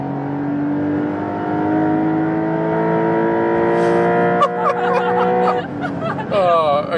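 A Porsche 911 Dakar engine drones steadily at high speed above 200 km/h, its harmonic tone rising as it accelerates, with a brief voice and laughter near the end.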